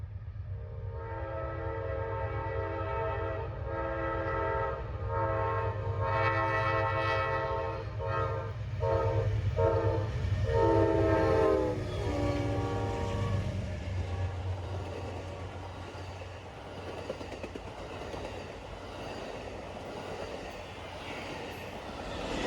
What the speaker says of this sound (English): First is the southbound auto train around 5 a.m., with today's rendition consisting of an Amtrak Dash 8 trailing.